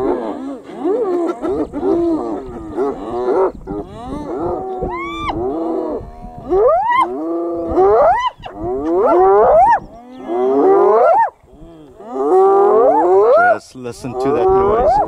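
Lions and hyenas clashing on an African safari: loud, close bursts of roars, growls and rising whooping cries overlap in long fierce volleys, broken by short pauses.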